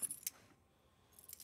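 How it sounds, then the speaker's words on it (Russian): Keys jangle in two short bright bursts as a set is handed over, then a brief quiet gap before another rattle of metal keys at the end; close and fairly faint, with no talking. "Держи ключи."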